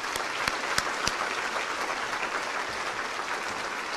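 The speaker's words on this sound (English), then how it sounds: "Let's have one last round of applause for all of us working together to make a difference for our students." Volunteers at a tea celebration give a sustained round of applause, a dense even wash of many hands clapping with a few sharper claps standing out early.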